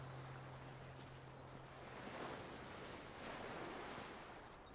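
Ocean waves wash steadily at the seaside, a faint, distant broadband surge that swells gently in two slow rises, with light wind and a brief low hum at the start.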